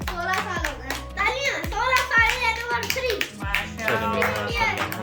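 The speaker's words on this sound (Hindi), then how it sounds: "तालियां 16 साल एनिवर्सरी।" Hands clapping at a 16th wedding anniversary celebration dinner, brisk and close, blending with children's voices, chatter and bright tonal background sounds.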